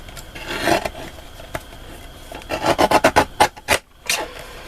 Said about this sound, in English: I'll just trim the edge at the bottom and trim the side.